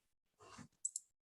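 A computer mouse gives two quick, crisp clicks in close succession during an online negotiation meeting, faint and alone, just after a brief muffled rustle.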